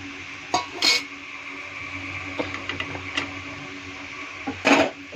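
An egg tipped into a pan on a home stove, then stirred, with a few sharp clinks of utensil against the pan over a low steady hiss, spaced irregularly and close.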